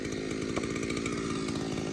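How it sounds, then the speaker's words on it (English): A chainsaw runs steadily while cutting a tree during land clearing in Kauai, its engine a loud, continuous buzzing drone with no breaks. "This chainsaw is pretty heavy"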